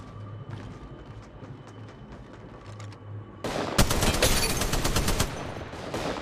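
In Apex Legends, quiet background noise gives way to a loud, close burst of rapid automatic gunfire that runs for the last few seconds.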